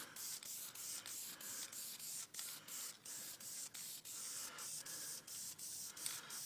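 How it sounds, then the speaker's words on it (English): Enamel spray paint hisses from an aerosol can onto an ATV cargo carrier in a long run of short, close bursts with brief pauses between them. "And we'll paint her up."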